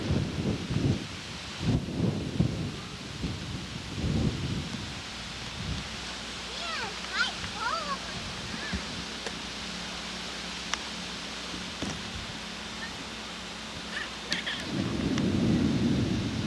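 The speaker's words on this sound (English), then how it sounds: "Hear that thunder?" Deep rolling rumbles of thunder at the start and again at the end, over steady rain-like hiss, with a few faint voices in between.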